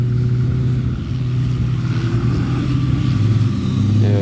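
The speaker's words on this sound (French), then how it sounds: "Ensuite il y a cette Ferrari là, des courses, très sympa." A Ferrari racing car drives on ice, its engine a steady close mid-pitched drone that rises slightly in revs toward the end, heard alone without talk.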